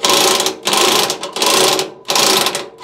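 Impact wrench firing short, loud, close bursts of rattling hammering, about four quick blasts with brief gaps, while loosening the trunnion bearing on a washing machine.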